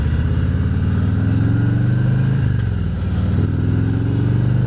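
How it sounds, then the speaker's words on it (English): A car passes on a rural road, its engine a steady mid-range hum that swells and shifts pitch as it goes by, heard from inside another vehicle. "See a car coming now."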